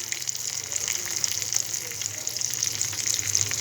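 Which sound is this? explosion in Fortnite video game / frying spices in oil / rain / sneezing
frying spices in oil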